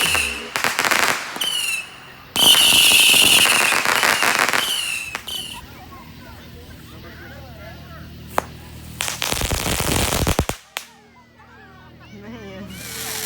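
Fireworks and firecrackers go off at an outdoor fireworks range, loud crackling bursts and sharp pops coming in several sustained volleys with quieter gaps between them, while people talk nearby.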